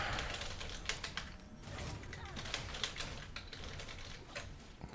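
Rapid typing on a computer keyboard, dense clusters of quiet, close key clicks tapping in quick bursts with brief pauses, continuous for the whole stretch without talk.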